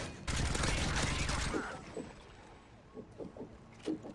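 An automated turret in Call of Duty: Modern Warfare 3 fires a loud, dense burst for just over a second, followed by quieter scattered game noise and soft voices talking.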